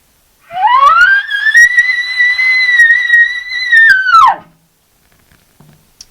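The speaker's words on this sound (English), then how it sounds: "Primos call with the Rocky Mountain, and we're going to work our way down, and we'll see how this sounds" A Primos Rocky Mountain elk call blown into a single long, loud bugle-like tone that rises from low, wavers steadily for about three and a half seconds, then drops away into near silence.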